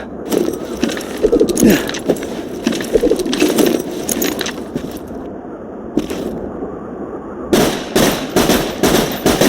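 Fireworks exploding in Borderlands 2, a loud run of crackling, popping bursts that continues for several seconds, drops briefly, then erupts again in a dense final volley.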